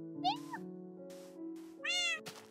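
Tamed cats or ocelots in the video game Minecraft meow several times in quick succession, with short rising and falling cries standing out clearly against an otherwise quiet background.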